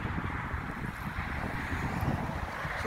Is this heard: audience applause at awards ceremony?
no